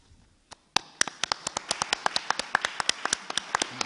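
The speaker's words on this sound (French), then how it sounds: "Tout applaudit quand même" Small audience after a French talk breaking into applause, a single clap then a brisk run of distinct, fairly close handclaps building into steady clapping from a few people.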